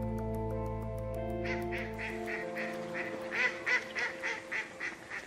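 After a sustained humming tone fades, a run of about ten rhythmic duck quacks follows, fairly close and clear with little else around.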